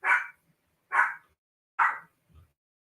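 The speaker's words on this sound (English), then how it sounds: "where the dogs are barking and I have to mute myself" Dogs barking in three sharp, loud, evenly spaced barks close to the microphone, with a faint low sound after the last bark and silence between.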